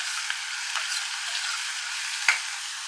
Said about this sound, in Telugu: ఒకసారి మూత పెట్టుకొని ఫ్రై చేసుకుందాం